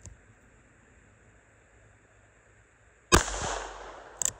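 A Heritage Rough Rider Tactical Cowboy single-action revolver with a 6.5-inch barrel fires outdoors. One sharp loud report comes after a quiet stretch, followed by a ringing decay and a fainter second crack near the end.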